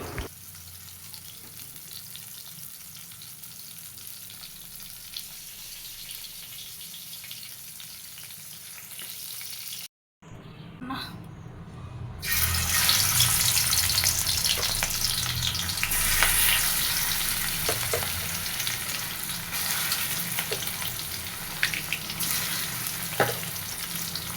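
Cumin, onion and green chili fry in a wok for a lightly spiced fish dish. A continuous sizzle drops out briefly, then returns louder with stirring scrapes over a close, dense hiss.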